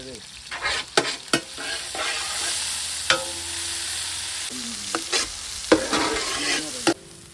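Onions frying and being stirred in a pan for a village-style turkey fry, with a steady sizzle and repeated scraping strokes of a spoon against the pan, close and fairly loud with no talking.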